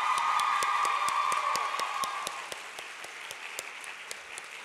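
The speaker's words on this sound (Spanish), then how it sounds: "hay que recibirlas con un gran aplauso," An audience at a Spanish-language book presentation applauds to welcome the authors, a dense, steady clapping that fills the room, loud at first and easing slightly while continuing throughout.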